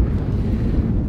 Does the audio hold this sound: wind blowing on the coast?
yes